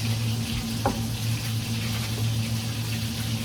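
A steady crackling sizzle of tuna fish frying in hot oil, continuous throughout, with a low hum and a brief clatter partway through.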